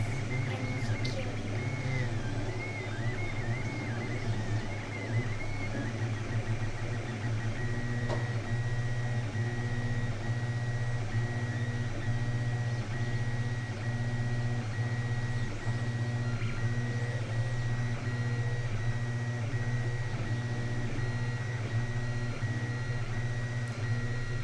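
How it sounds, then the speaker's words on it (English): A Creality CR-100 3D printer runs a test print, its stepper motors whining in steady tones with shifting pitch, a constant mechanical hum close by and fairly loud, with no talking. "if you're worried about the noise of the printer, you're probably hearing it a little bit louder than it is in person"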